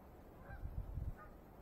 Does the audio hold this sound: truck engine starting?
no